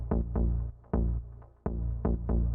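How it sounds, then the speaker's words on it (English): Melodic house synth bass line plucking a series of deep notes in a loose rhythm, each note trailed by faint delay repeats that fill the gaps between them, heard alone and fairly loud. "Added some delay to fill in the space between every single bass note over here."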